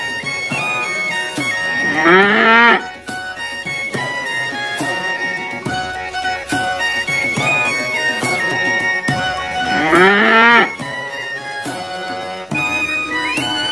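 A cow and calf mooing, two long loud drawn-out moos with other animated, musical sounds between them.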